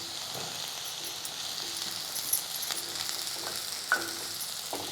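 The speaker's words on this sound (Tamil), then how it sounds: "ஒரு நிமிஷத்துக்கு வதக்கிக்கோங்க" Beans, carrot and other vegetables sauté in butter in a pan for vegetable soup, giving a soft, continuous sizzle with a couple of faint utensil clicks, heard alone.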